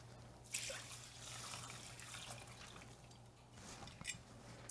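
Water or stock is poured into a rice cooker pot for a cooking demonstration, giving a soft steady trickle and splash, close and fairly quiet, with no talking.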